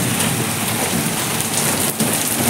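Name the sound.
rain falling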